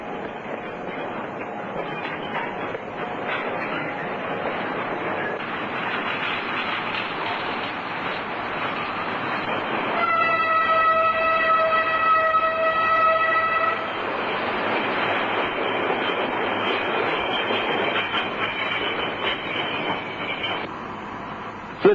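A narrow gauge work train in Melbourne rumbles along with rolling wheel noise, and a stretch of high, tonal squealing from wheels on the rails midway through.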